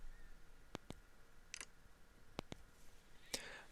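Sharp clicks from the power button on a Rebel Gen 6 Ultra phone case fitted to an iPhone 16 Pro, pressed close to the mic: two quick pairs of crisp snaps separated by a soft rustle, with a brighter handling scrape near the end.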